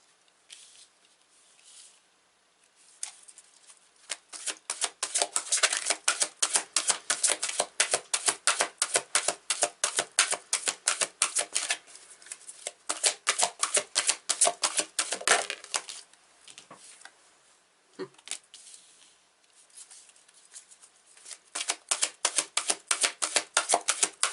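Tarot cards being shuffled and laid out, a rapid fluttering riffle of cards that comes in long bursts with brief pauses between them, close and clear with no talking.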